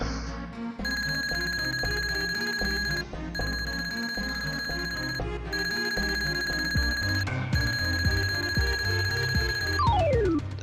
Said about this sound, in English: the ringing. It sounds like my alarm clock and it's not something I want to hear